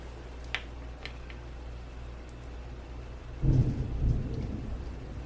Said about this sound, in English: It's raining. You can hear the rain.